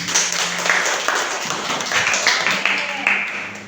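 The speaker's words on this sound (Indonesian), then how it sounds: "Tepuk tangan untuk semuanya." A fourth-grade class breaks into steady, dense applause, many hands clapping together at close range, with a teacher's voice briefly over it.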